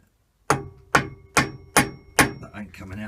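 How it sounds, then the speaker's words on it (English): Five sharp, ringing hammer blows land at an even pace on a solid sycamore wood bowl blank, close and loud, followed by a moment of light clattering. "I've whacked that with my hammer."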